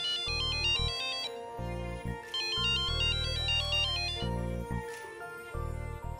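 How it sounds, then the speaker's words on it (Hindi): A mobile phone ringtone plays a bright electronic melody over pulsing low synth chords, loud and repeating in bursts with brief gaps, with no voices over it. "सुमन, फोन उठाओ ना।"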